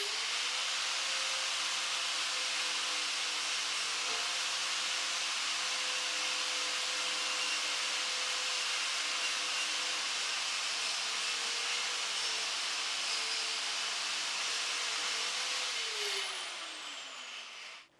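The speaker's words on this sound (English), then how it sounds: "What I tend to use is a wire brush on a grinder." A wire brush on an angle grinder cleans a rusty wheel hub surface on a 16V Golf, a loud, steady high-pitched whine and hiss running continuously close up before spinning down at the end.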